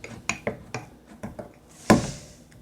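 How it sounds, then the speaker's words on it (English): Homemade slime mixed with toothpaste is stirred in a bowl, giving a steady run of soft clicking taps about four times a second, then one louder wet slap near the end. "You just gotta stir."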